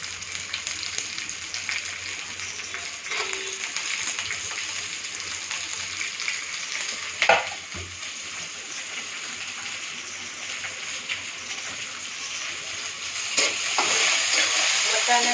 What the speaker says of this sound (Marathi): वाटाणे आणि फ्लावर तेलामध्ये फ्राय करून घेतलं की तो शिजतो लवकर